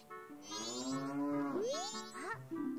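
Cattle mooing on a ranch in the video game Zelda: Majora's Mask, several long, drawn-out lowing calls that rise and fall over steady game background music, close and clear with no talking.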